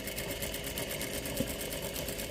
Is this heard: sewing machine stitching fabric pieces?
yes